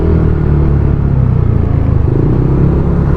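A Yamaha NMAX scooter engine with a quieted exhaust muffler idles and runs in a loud, close, continuous low rumble with a slight rhythmic throb.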